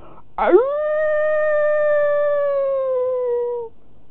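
A storyteller on a televised children's talk show imitates a wolf with a single long, smooth howl that starts with a sharp rise and holds a steady pitch for about three seconds before cutting off.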